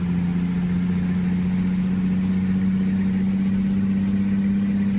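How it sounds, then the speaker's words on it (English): Truck engine idling with a turbo in American Truck Simulator, a steady deep drone with a constant low hum and a faint high whine running throughout, even and unbroken with no talk. "Just listen to that turbo."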